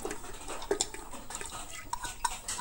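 Washed dal goes into a steel pressure cooker, heard as quiet clinks and clattering of metal vessels with scattered light taps throughout, close and low in level, with no voices.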